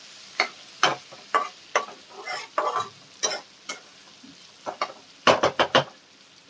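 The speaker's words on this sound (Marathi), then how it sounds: "मिडियम आचेवर तशी वांगी फ्राय करून घ्यायची तेलामध्ये" Stuffed brinjals frying in oil in a pan over a medium flame, crackling sizzle broken by a run of sharp spoon scrapes and clinks against the pan, close up, no voices.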